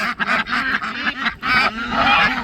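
Two white domestic ducks quack loudly and close by in rapid, overlapping bursts with brief pauses between them.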